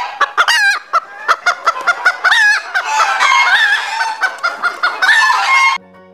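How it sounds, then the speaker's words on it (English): Hen clucking loudly and close in a kids' phonics song, a rapid series of sharp clucks and squawks that cuts off abruptly near the end. "H for hen."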